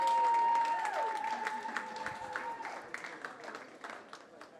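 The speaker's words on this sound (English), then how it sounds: "Give them a round of applause." An indoor audience breaks into applause, scattered clapping that starts fairly loud and thins out as it goes, with a ringing tone and some voices heard near the start.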